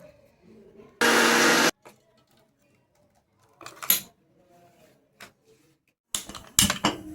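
Kitchen mixer grinder blending coconut, ginger, garlic and green chilli chutney, one loud buzzing whir about a second long, followed by scattered clinks and knocks of the jar and lid and further short bursts.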